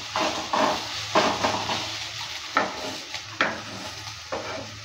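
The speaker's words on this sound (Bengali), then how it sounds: "ঢাকনাটা তুলে নেওয়ার পর নেড়ে চেড়ে নিচ্ছি।" Spices stirred in a cooking pan just after the lid comes off, a dish made with Gobindobhog rice: several rhythmic scraping strokes of a spoon against the pan over a low sizzle, close and fairly loud.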